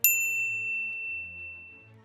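A single bright notification bell dings once at the start, then its clear tone rings out and slowly fades, with no voices.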